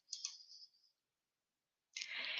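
A computer mouse clicks twice close by, followed by a short faint rustle, a stretch of silence, then a louder burst of scraping handling noise near the end.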